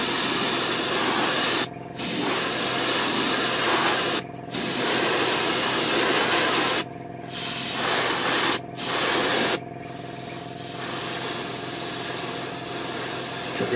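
Airbrush hissing steadily as it sprays a top coat onto a Bandai 1/72 scale Y-Wing model kit, close and loud in several bursts broken by short pauses, then a quieter, lower-pressure spray at the end.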